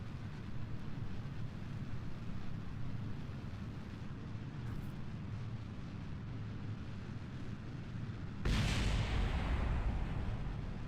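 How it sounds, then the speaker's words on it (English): Explosions in a space game on a Mun science mission: a steady rumbling roar, then a louder, heavier boom-like burst near the end, with no talk. "explosions are cool, yo, but not"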